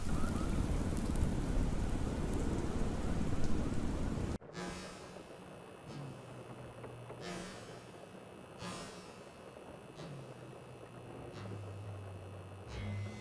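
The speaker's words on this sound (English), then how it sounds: "McCoy and Lucy step out into the rain and double-check their guns." Steady rain falls outside at night, a dense, loud hiss that abruptly cuts to a softer, muffled patter with faint intermittent rumbles and tones behind it.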